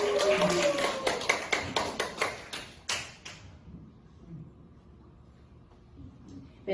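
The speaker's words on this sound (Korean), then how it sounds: "자, 박수 한번 주세요." An audience gives a burst of rhythmic, evenly spaced claps that fade out after about three seconds, leaving a quiet room.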